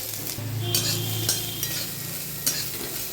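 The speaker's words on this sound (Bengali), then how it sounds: "নারকেলগুলো আঁচ কমিয়ে ভেজে নেব।" Finely chopped coconut pieces fry in a little mustard oil in a kadai over low heat, a soft, even sizzle with a few light scrapes of a spoon, close and quiet.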